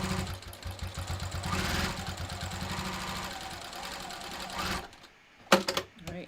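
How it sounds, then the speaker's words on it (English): A sewing machine stitches through layered wallet fabric in a steady, close, rapid mechanical whir lasting nearly five seconds, then stops abruptly, leaving a brief quiet followed by a couple of short handling knocks. "So we're going to sew right side up and then right side down."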